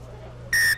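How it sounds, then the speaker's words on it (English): Referee's whistle blown once like a kickoff during a sports match, a single short, sharp, shrill blast over a low steady background hum. "I'm going to give you a whistle like a kickoff"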